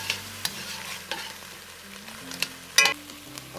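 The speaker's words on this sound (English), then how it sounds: "we've got our onions in the pan here. Going to kind of deglaze it a little bit, let them start cooking down." Onions cooking down in a pan for boneless beef short ribs, heard as a soft steady sizzle broken by several sharp spoon clinks and scraping stirs, close by with no talking.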